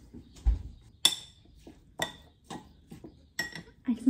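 A spoon clinks and scrapes against a bowl while mixing spiced vegan mince pie filling with cinnamon, allspice and nutmeg, a few sharp knocks spaced apart with soft stirring between them.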